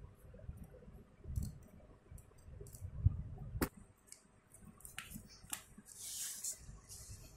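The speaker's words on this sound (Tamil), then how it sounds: "இப்போ நம்ம சிசர் எடுத்துக்கோங்க. ரெண்டும் ஒரே மாதிரி வச்சுக்கோங்க. இப்போ மேலே இருக்கிறத கட் பண்ணணும்." Scissors cut through paper for a glue-free minibook craft: a few faint, close snips and light paper rustles, scattered with quiet gaps and no talk.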